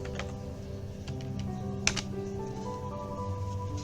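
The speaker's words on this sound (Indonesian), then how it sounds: "kemudian kita ketikkan write." Typing a command on a computer keyboard while configuring inter-VLAN routing, a quiet scattering of key clicks with one sharper tap near the middle over a steady background hum.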